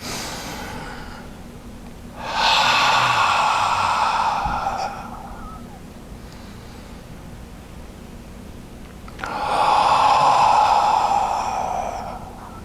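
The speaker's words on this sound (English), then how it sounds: "Take a deep breath through your nose and exhale through the mouth. 2 more times like that." During a therapeutic yoga session, deep breaths are drawn in through the nose and pushed out through the mouth as two long, loud, close exhales separated by quieter breathing.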